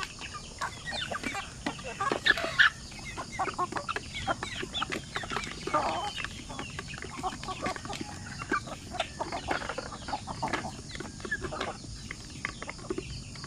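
Three-month-old Basilan native chickens cluck in a farm yard, a steady scatter of short calls and rustling close by, with a few louder bursts around the second and sixth seconds.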